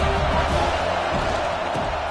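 Steady roar of a stadium crowd in the College Football 26 video game, dense and continuous throughout with faint cheering swells, and a commentator-style voice present at moments.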